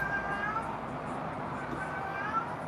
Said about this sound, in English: Can you hear my cat? He's pissed.